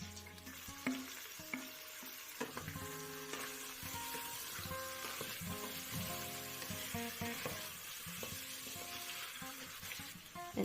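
Food sizzles steadily in a hot pan as lentils are added for lentil soup, with occasional stirring clinks and scrapes over the constant hiss.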